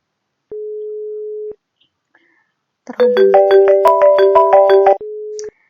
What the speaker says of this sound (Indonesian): Lalu kita coba telepon dari MicroSIP ke 3CX Phone.